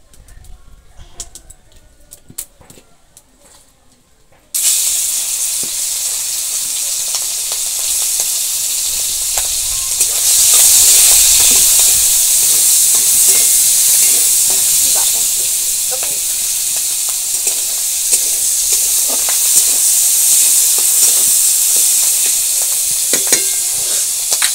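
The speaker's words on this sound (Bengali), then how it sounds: "এবার কড়াইয়ের মধ্যে তেল দিয়ে চিংড়ি মাছগুলো আগে প্রথমে ভালো করে একটু ভেজে নেব" Small prawns hit hot oil in a wok and burst into a loud, steady sizzle after a quiet few seconds, then crackle and hiss close up for about twenty seconds without pause.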